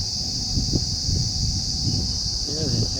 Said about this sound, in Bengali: ঝিঝি পোকার ডাক, অনর্গল ঝিঝি পোকার ডাক শুনছি।